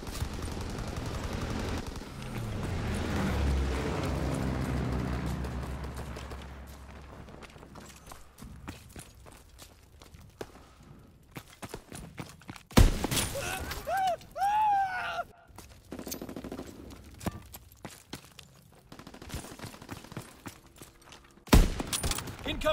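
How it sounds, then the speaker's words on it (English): Enemy artillery strike in a Call of Duty free-for-all match: heavy booming impacts and bursts of gunfire early on, then scattered sharp blasts and crashes, with voice callouts mixed in. "Incoming enemy artillery!"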